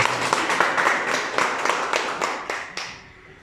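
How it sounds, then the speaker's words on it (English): Applause from a seminar audience, dense clapping that fills the room for about three seconds before thinning and fading out, fairly loud and close, with no speech over it. "let's give a round of applause"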